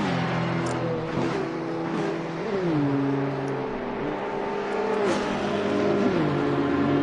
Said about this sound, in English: GT2 cars are absolutely flying now.